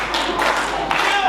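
A wrestling crowd at an indoor show claps and cheers, a dense steady wash of applause with a couple of louder bursts.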